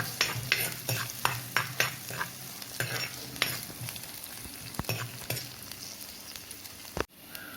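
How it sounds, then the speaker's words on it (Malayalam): Ginger, garlic and green chilies are sautéed in a pan for a fish curry. A spoon scrapes and stirs in quick repeated strokes over a constant sizzle, and one sharp knock comes near the end. "ഇനി നമ്മൾ അരിഞ്ഞ് വെച്ചിരുന്ന പച്ചമുളക് ഇട്ട് കൊടുക്കാം. ഇതെല്ലാം കൂടി നന്നായിട്ടൊന്ന് വഴറ്റിയെടുക്കുക."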